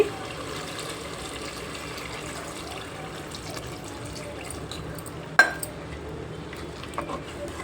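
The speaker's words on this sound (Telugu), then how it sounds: "వాటర్ అయితే వేసుకుంటాను బాగా వేగింది" Water is poured into mutton iguru curry frying in a pot, a soft running wash over low kitchen background, with one sharp splash or clatter midway, nearby and without talk.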